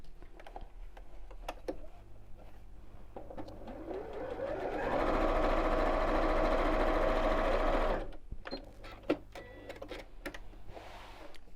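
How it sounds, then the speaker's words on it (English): A sewing machine runs a steady straight seam across the turning gap of a scallop-top gift bag, a continuous whirring burst of about three seconds framed by quieter handling noise and clicks before and after. "sew straight across there"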